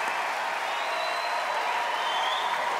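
Dense, steady applause from a talent show audition audience, continuous and fairly loud throughout with cheering voices mixed into the crowd noise.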